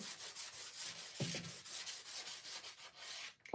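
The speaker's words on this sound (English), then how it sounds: "now I'm just going to give it a sanding" Steady back-and-forth sanding on a painted wooden porch sign to smooth the paint, a rhythmic rasping rub repeated many times, close and fairly quiet, with no voices.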